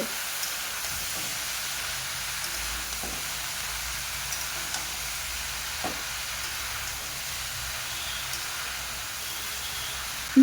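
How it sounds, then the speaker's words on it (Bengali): Vegetables and spices sizzle in a pan for a leafy spinach, yardlong bean, potato and hilsa fish head curry. The soft frying hiss runs steadily and close, with a few faint stirring knocks and a small clink at the end. "সবজি আর মশলাকে কিছুক্ষণ কষে নেব।"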